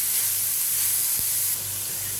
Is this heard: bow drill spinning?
no